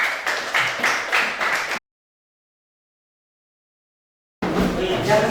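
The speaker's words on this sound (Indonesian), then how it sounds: "tepuk tangan untuk kelompok 2 dan baliknya." A classroom group claps briskly for a couple of seconds, then silence, then clapping starts again.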